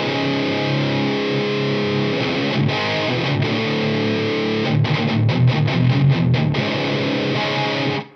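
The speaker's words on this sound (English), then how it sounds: "this is more tones on the Epiphone Jerry Cantrell Wino Les Paul Custom." An Epiphone Jerry Cantrell Wino Les Paul Custom electric guitar plays through heavy distortion, sustained crunchy chords giving way to a rhythmic run of chugging palm-muted hits, loud and close, ending abruptly.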